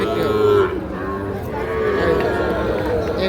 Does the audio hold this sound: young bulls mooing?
yes